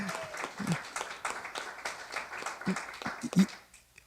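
A synagogue congregation at its annual meeting gives a round of applause, scattered hands clapping at moderate volume that thins out toward the end, with voices in the background.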